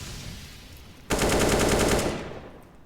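A burst of AK rifle fire in a Counter-Strike match on the Anubis map, one loud sustained automatic spray lasting about a second, close and dominant over faint background game ambience.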